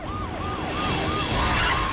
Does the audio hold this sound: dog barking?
no